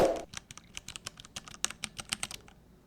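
Soft, muffled keystrokes on a Ducky One 3 SF mechanical keyboard, a quick irregular run of close taps that trails off near the end, with nothing else audible.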